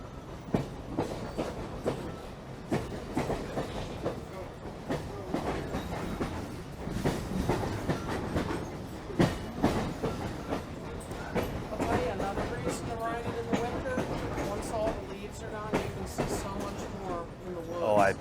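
A diesel locomotive, a GP38 on a scenic railway through a gorge, rolling along the rails with rhythmic clickety-clack and rumble heard from aboard the train, with people talking over it.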